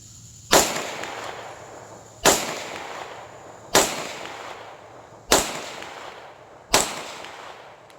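Five sharp, loud SPS Pantera pistol shots firing 124 grain ammunition on a range, spaced about a second and a half apart, each with a ringing decay.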